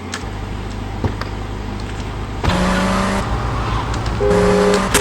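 Car engine from a vehicle in the GTA video game, a steady drone that rises and grows louder midway, with tonal revs and squealing tires layered over it, no talking.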